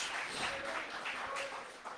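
A congregation claps in a church service, steady applause that is moderately faint and diffuse, carrying on for the whole stretch with no talking over it.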